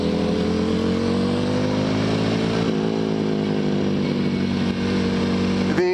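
An EBR 1190 RX sport motorcycle engine pulls hard under load while being ridden, a loud, continuous buzzing drone with rising and falling pitch and steady wind noise behind it.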